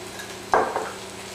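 Sweated leeks in a pan for a Titanic-era pea soup give a single soft scrape and sizzle, likely a spoon stirring, brief and moderately close over a low, steady background hum.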